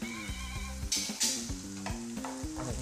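Corn fried rice base frying in a pan with pepper powder just added, a quiet close sizzle broken by a few sharp scraping bursts and a humming undertone, no speech.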